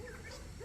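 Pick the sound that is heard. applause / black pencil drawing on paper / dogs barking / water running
dogs barking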